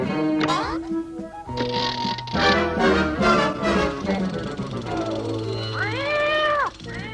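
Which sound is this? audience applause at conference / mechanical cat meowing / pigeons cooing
mechanical cat meowing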